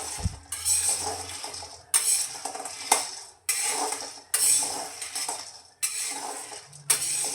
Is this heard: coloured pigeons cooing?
no